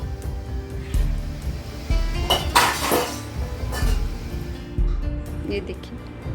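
A small child handling kitchen utensils, pots and dishes indoors, with scattered metallic clanks and clinks over steady background noise and someone talking throughout.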